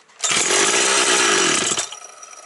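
A Husqvarna 365 chainsaw roars to life and revs hard at close range for over a second, then drops back to a rough idle as the engine note falls away.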